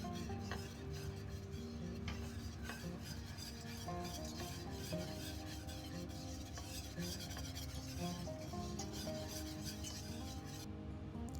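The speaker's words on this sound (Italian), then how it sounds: "Aggiungi ancora un po' di farina e mescola con calma" A spoon or whisk stirring flour into a béchamel sauce in a pot, making a continuous quiet scraping and rasping with soft repeated strokes against the pan, faint and steady with no talking.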